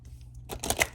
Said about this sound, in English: I'm going to shuffle it a little bit.